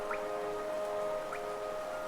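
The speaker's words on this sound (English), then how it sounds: "I so love the sound of the rain upon glass." Rain falling on glass in the City of Tears area of the game Hollow Knight makes a soft, constant patter, joined by steady sustained musical tones and two faint rising chirps.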